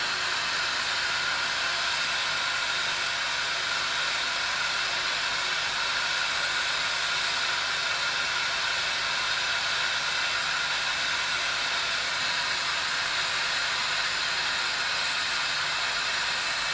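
A glassworking torch heating a dichroic borosilicate glass marble, a steady, even roaring hiss that holds unchanged throughout, close and fairly loud, with no talking.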